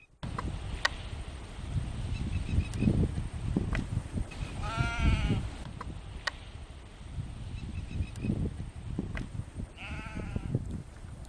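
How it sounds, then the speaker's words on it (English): A sheep on a rural road on Great Mercury Island, New Zealand bleats twice with wavering, nasal cries, standing out over a steady outdoor rumble of wind and distant ambience. "The only traffic here is one lonely sheep."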